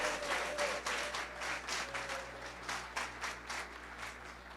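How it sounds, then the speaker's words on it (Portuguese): A church congregation claps in applause for Jesus during a Portuguese-language sermon, a steady ripple of many hands with irregular louder bursts, moderately distant and sustained throughout. "Dê um forte aplauso a Jesus"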